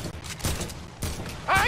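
Gunfire rings out in a Fortnite match around a factory, a few sharp, close shots cracking in quick succession, with a brief higher-pitched tone at the end.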